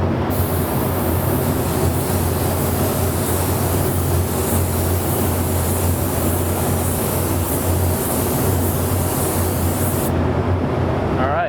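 Steady, loud hiss of a spray gun laying a coat of orange candy paint, running continuously for about ten seconds before cutting off abruptly.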